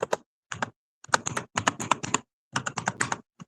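Fingers tap out a MariaDB password on a computer keyboard in short bursts of quick, crisp keystrokes separated by brief pauses, close and clear with no voices.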